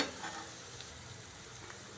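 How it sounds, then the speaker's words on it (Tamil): Garlic sizzles softly as it fries crisp in a hot pan, with light stirring scrapes now and then; quiet and close, no voices. "இந்த பூண்டு வந்து நல்லா முருகலாக ஃப்ரை ஆயிடுச்சு"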